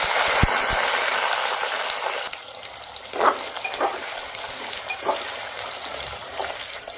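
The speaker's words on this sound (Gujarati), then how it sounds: "આપણે સરસોનું આપણા જે બટાકા ધોઈ અને સમારી લીધેલા છે નાખી દઈશું." Washed and chopped potatoes drop into smoking-hot mustard oil, giving a hissing sizzle with a few sharp crackles and scrapes, close and fairly loud, gradually settling into a steadier fry.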